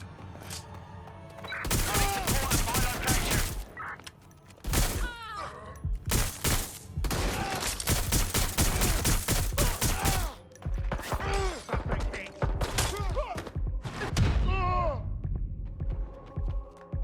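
Gunfire in the video game Watch Dogs: Legion, bursts of sharp shots in rapid clusters with brief pauses between, fairly loud and close, with faint game chatter around them.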